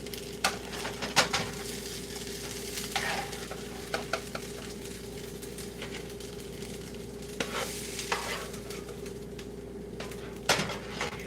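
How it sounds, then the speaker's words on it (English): Cheesy potato cakes made from leftover mashed potatoes frying in a pan, a steady close sizzle with occasional scraping and clinks of a utensil against the pan. "we're going to start frying the next ones"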